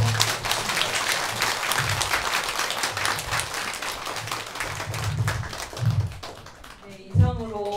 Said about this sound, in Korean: 정계대화상 스님께 한 번 더 큰 박수